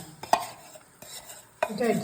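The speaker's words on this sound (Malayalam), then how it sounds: "നമ്മള് നല്ലോണം പതപ്പിക്കുന്നുണ്ട്" Jaggery and fenugreek halwa mixture is whisked to a froth in a pot, giving brief scraping and clinking stirring strokes with soft, wet swishes between them, close and fairly quiet.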